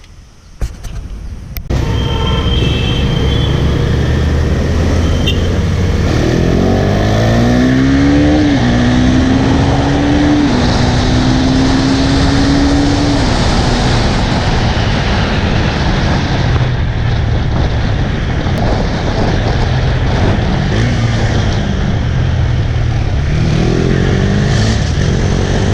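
A 2017 KTM Duke 390 motorcycle runs loud and close with its exhaust note, an engine that revs up in rising sweeps and settles back to a steady, buzzing drone.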